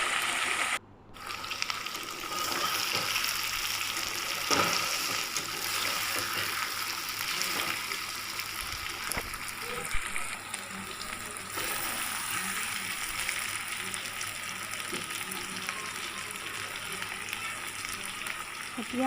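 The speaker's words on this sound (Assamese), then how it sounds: "আলু দিয়াৰ পিছত মাংসখিনি আমি 15-20 মিনিটমান ভাজি ল'ম।" Chicken pieces with potatoes fry in a pan, giving a steady, close sizzle and crackle that runs throughout with occasional clinks of stirring.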